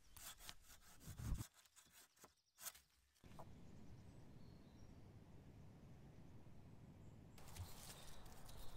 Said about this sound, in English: I need to saw them here anyway, so by angling the saw cut, I can saw off what I need and leave a pointy end